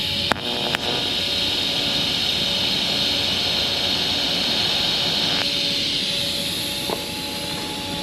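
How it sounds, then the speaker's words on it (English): A TIG welder lays a tack weld on metal plate, opening with a couple of sharp clicks before a steady, close buzzing hiss holds for several seconds. "And then I can get this tack weld here."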